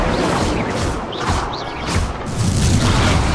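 Incendio fire spell cast in the Hogwarts Legacy video game, a loud dense burst of whooshing, booming flame and crackle that swells toward the end, with no voices over it.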